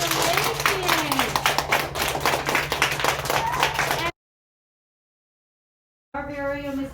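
A school assembly crowd claps steadily for about four seconds, dense and lively with voices and cheers mixed in, then the sound cuts to silence before a murmur of talk resumes.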